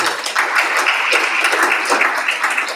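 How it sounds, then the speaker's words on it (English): An audience at a chapter technical and business meeting in Abuja breaks into sustained applause, a dense, even patter of many hands clapping at once, close and steady for nearly three seconds. "A round of applause,"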